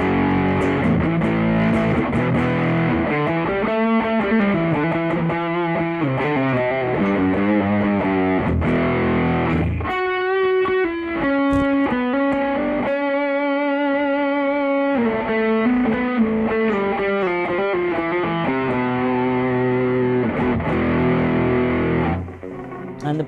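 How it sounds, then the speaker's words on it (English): An electric guitar played through distortion with an overdrive pedal stacked on it, a continuous run of gritty, saturated riffs and sustained chords, loud and close with no talking. "you still get the distortion, you still get that hectic overdrive, distortion, not overdrive, and then the overdrive pedal"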